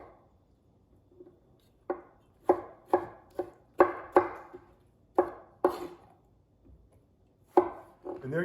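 A knife chops pasta salad ingredients into chunks on a cutting board, with about a dozen sharp, close cuts coming in irregular bursts and short pauses between them.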